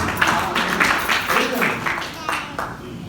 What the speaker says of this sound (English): Can we clap hands for the word of God?